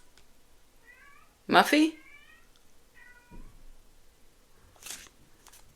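A house cat meows several times, short tonal mews with one louder sharp cry in the middle, close by, while a person calls out briefly.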